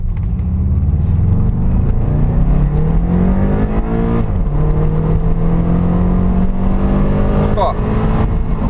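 Subaru Legacy BH5 from 2002 with an EJ206 engine accelerating hard from 0 to 100 km/h, heard from inside: a loud, steady engine drone whose pitch climbs through several gear changes, rising, dropping and rising again, with no talk over it.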